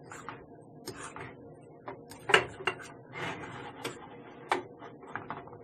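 Chopped crawfish stirred into a pot of Creole grits, soft scraping and thick mixing sounds with occasional sharp clinks of a utensil against the pot, close and quiet.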